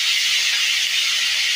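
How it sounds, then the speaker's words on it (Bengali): Prawns fry in a pan, giving a steady, close hissing sizzle that holds evenly without pause. "এই চিংড়ি মাছ ভাজা হচ্ছে"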